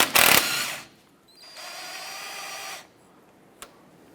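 Ratchet or power tool work loosening a sway bar end link on a 1994-2004 Chevrolet S10 with a 14mm wrench and socket: a loud brief burst, then a steadier whirring run of about a second, then a sharp tap.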